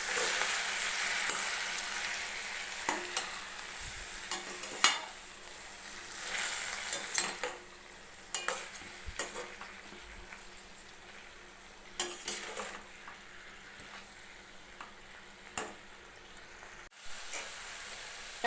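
Grated snake gourd sizzles steadily while being stir-fried and mixed in a pan, with repeated scraping and clinking strokes of a spoon against the metal over a continuous frying hiss.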